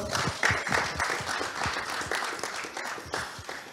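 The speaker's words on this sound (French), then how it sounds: "On applaudit très fort." Audience applause at an award ceremony for a student film contest in France, a dense wash of clapping running steadily throughout with occasional voices mixed in.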